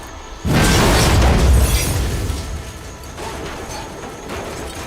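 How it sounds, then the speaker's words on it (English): A powerful charge pulse blast tearing objects apart in Just Cause 4: one loud, close explosion with a deep rumbling boom that slowly fades into scattered debris and a low roar, no voices. "In our current setup, we have a powerful charge pulse that blasts objects apart when they meet."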